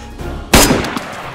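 PPSh submachine gun firing in the DayZ video game, one loud sharp blast partway through followed by a fainter secondary crack, set over steady background noise.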